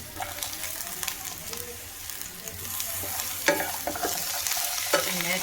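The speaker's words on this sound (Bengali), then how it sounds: "এবার আরো কিছুক্ষণ নাড়বো ভালো করে" Vegetables for shukto, with tomato and green peas, fry in a wok while a spatula stirs them in repeated scraping strokes over a steady sizzle.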